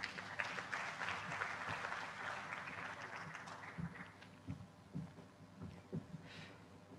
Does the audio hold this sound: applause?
yes